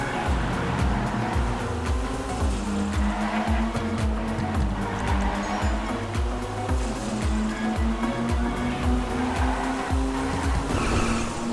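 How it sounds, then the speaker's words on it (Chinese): A Vauxhall Corsa C in GTA skids with a continuous engine drone and a long tire squeal that holds steady and rises near the end, loud and close, with no talking. "开太快会打滑"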